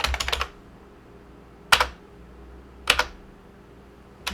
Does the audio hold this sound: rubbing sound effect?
no